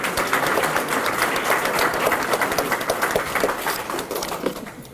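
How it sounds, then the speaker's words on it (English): Banquet audience applauding a scholarship recipient at an annual memorial dinner, a dense sustained roar of many hands clapping throughout, tapering slightly at the end. "Let's give Morgan a round of applause, please."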